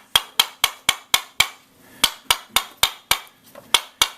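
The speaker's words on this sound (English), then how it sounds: "You have to hammer on the edge" Sharp metallic hammer strikes ringing on the edge of a copper bowl, about fifteen blows in a steady rhythm with a short pause midway, close and clear.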